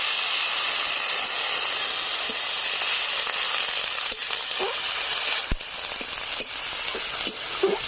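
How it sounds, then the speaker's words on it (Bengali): Water poured into a pan of onions fried reddish-brown, for a village-style rita fish curry, hisses and sizzles loudly and steadily, with a few soft clinks and crackles toward the end. "পেঁয়াজগুলো লালচে করে ভেজে নিয়েছি। এখন দিয়ে দিচ্ছি সামান্য একটু জল।"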